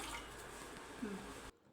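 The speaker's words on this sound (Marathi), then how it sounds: "एक मी ग्लासभर पाणी टाकून घेते" A glass of water is poured into a kadhai, giving a short, soft splashing trickle that stops abruptly after about a second and a half.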